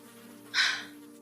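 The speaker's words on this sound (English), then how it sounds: "The swarm of flies around my head didn't even try to follow them. Something about me makes them buzz like roadkill in a desert." Flies buzz close by in a brief swelling drone that rises suddenly, lingers for about half a second and then fades under a low steady hum.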